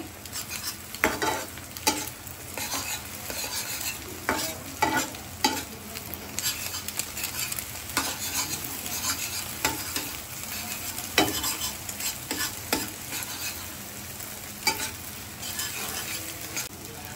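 Beaten egg scrambles into chunky bhujia in a hot pan, with a constant close sizzle broken by frequent scraping and stirring strokes of a utensil against the pan and no voices.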